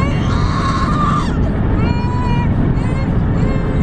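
A baby screams loudly inside a car pulled over on the side of a freeway, the cries rising over constant road and wind rumble.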